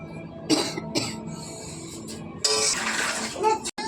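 Someone coughs in short bursts, set off by fumes from dried chilies roasting in a home kitchen, with a longer fit of coughing partway through and a soft voice in between.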